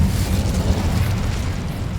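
In the Hogwarts Legacy video game, an Incendio fire spell erupts as a loud, sustained, rumbling fiery blast that roars continuously for about two seconds, with no voices.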